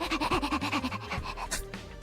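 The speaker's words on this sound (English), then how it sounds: "The doggy sounds." A dog in a video game pants in quick rhythmic breaths, fairly close and steady, with faint game sounds underneath.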